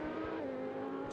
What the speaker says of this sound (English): we can hear already some of the cars in the background now.